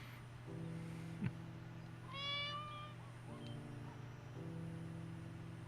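A cat meows in the video game Copycat, a single drawn-out meow heard faintly over a steady low electronic hum and background game tones.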